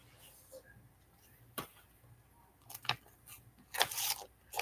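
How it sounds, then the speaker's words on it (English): Scissors snip into an American Patchwork Quilting magazine, a few quiet scattered clicks building to louder, rasping cuts near the end, close to the microphone with no one talking. "I'm going to have to cut this because it's ruining the magazine."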